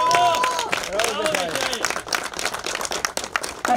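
Audience applause at an outdoor awards ceremony for a Turkish track championship in İzmir's Ülkü Park. A man announces over a loud voice, then dense clapping builds and carries on to the end.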